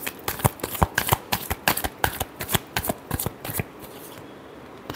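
A deck of tarot cards is shuffled by hand during a reading, giving a rapid run of crisp riffling snaps and slaps at close range, with a quieter pause near the end.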